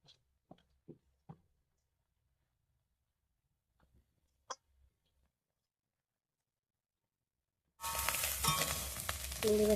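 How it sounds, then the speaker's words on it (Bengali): Shrimp sizzle and fry in hot mustard oil in a pan, a loud steady hiss bursting in near the end after quiet scattered clinks and taps. "চিংড়ি মাছটা ভাজা হয়ে গেছে,"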